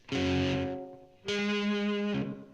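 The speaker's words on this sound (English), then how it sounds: "let's see about this Fab Echo, the Slap Echo" Electric guitar through a Danelectro Fab Slap Echo pedal, two sustained distorted chords each ringing about a second with a short slapback echo trailing and a brief gap between them, loud and close with no talk.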